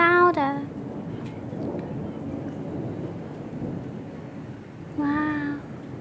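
Thunderstorm with rain falling steadily and a low rumble of thunder through the middle, while a voice speaks briefly at the start and near the end.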